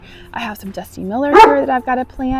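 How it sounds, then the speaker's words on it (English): Dogs bark and yip nearby in a spring garden, partly mixed under a person's steady talking. "Sorry about the dogs and some other things"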